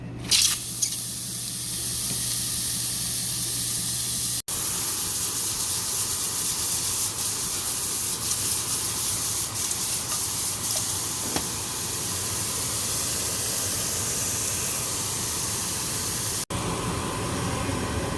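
Shrimp sauté in a high-sided skillet with a loud, continuous sizzle and spitting hiss that runs for the whole stretch, broken only by two brief cuts.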